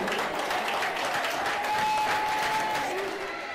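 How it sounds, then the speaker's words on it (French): Applause from a crowd at a town youth event during a manga fair, a steady continuous wash of clapping that stays even throughout with faint voices mixed in. "Donc si vous voulez bien applaudir la jeunesse coudraysienne."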